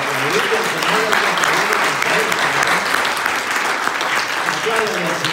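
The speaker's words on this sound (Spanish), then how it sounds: "Estaban aplaudiendo, me parecía." Church congregation applauding during a worship service, a steady dense wash of clapping with voices calling out and talking over it throughout.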